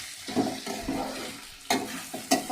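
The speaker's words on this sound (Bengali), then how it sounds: "একটু নাড়াচাড়া করে" Ash gourd frying in mustard in a pan is stirred with a few scraping strokes over a steady low sizzle, close and fairly quiet.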